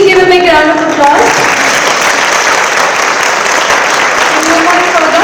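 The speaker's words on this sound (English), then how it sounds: "Please give a big round of applause." Loud, close audience applause at a public gathering, dense continuous clapping over a brief voice at the start that fades under the clapping.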